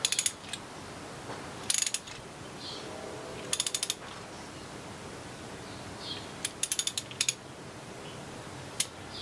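A socket ratchet tightening the clutch on a Husqvarna 2100 CD chainsaw: several quick bursts of close, rapid metallic clicking, each a short run of pawl ticks separated by pauses, with faint handling noises between.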